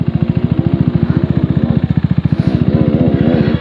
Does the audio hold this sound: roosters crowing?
no